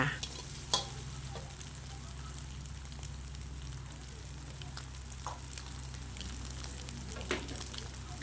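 Egg sizzles in a hot pan while it is stir-fried and broken into pieces for a cabbage and glass noodle dish, a steady close frying hiss with occasional scraping and tapping from the utensil.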